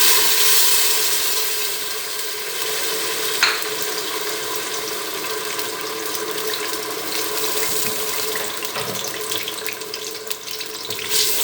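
Onion paste hits hot oil in a pan for a quail (batair) dish, giving a steady, moderately loud broadband hiss and sizzle that runs the whole time with no voices.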